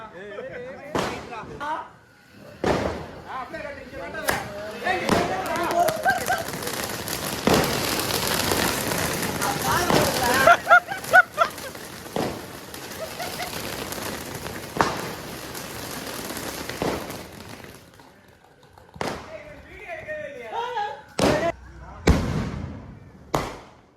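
Repeated sharp firecracker bangs at a Diwali celebration, some close and loud, with a long crackling burst in the middle; people talk and shout between the blasts.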